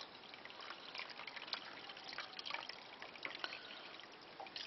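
Liquid from roasting a chicken poured through a strainer into a pot, a quiet, steady trickle with soft drips throughout.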